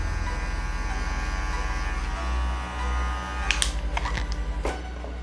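Electric hair clippers buzz steadily and close up while cutting hair at a barbershop, with a few sharp clicks and handling sounds toward the end.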